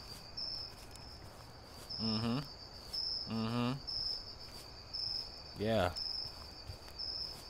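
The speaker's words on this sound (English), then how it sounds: "It's crickets out here. Loud as hell." Steady high cricket chirping from the video game Meat, a constant insect trill running throughout at moderate level while a man briefly murmurs short replies over it.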